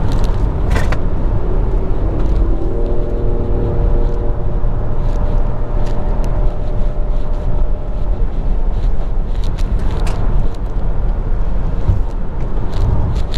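A Nissan Qashqai e-Power SUV's engine hums steadily with a rising harmonic tone as it revs while driving in sport mode, heard from inside the car with constant road and wind rumble and no talk.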